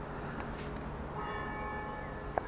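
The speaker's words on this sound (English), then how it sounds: "we can hear the church bells" Church bells ring out across the churchyard of St Mary's in Woolpit, Suffolk, a steady distant pealing of clear tones beneath soft outdoor ambience, with no talking.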